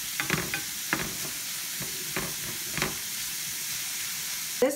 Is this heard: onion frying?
yes